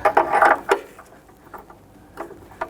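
A socket wrench tightens an upstream O2 sensor on a 2011-2015 Kia Sorento 2.4L four-cylinder, producing a quick run of close ratcheting clicks followed by a few softer, sparser clicks.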